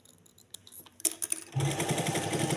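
After a second of light rustling and handling taps, a sewing machine starts up and stitches continuously nearby, a close buzzing whir as elastic is sewn into a trouser waistband.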